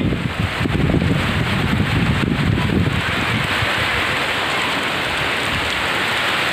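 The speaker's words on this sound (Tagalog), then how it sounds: "Magdamag na walang tigil ang ulan at ang malakas na hangin." Heavy rain and strong wind from Typhoon Ulysses in San Fernando, Laur, Nueva Ecija. A dense, steady rush of downpour is mixed with gusting wind buffeting the microphone, strongest in the first few seconds.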